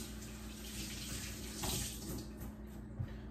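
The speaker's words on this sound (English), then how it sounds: "let me wash my hands here" Hands are washed under a running water tap, a steady soft splashing stream with a brief louder gush midway, close by and fairly quiet with no talking.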